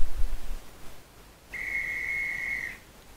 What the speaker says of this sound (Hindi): सीटी बजी।